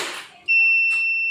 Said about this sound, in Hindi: टाइमर को जो है कमांड नहीं मिली है फीडबैक की, तो उस कंडीशन में ये बज़र अपना काम करना शुरू कर दिया है।